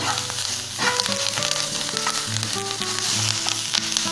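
Curry leaves sizzling and crackling in a hot oiled pan for thuvaiyal, a constant close frying hiss with occasional spoon scrapes and faint background tones.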